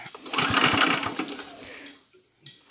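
A Troy-Bilt Horse tiller engine, just back together after a carburetor cleaning, catches in a short, close, rattly putter that swells and then fades out within about two seconds, followed by a faint click.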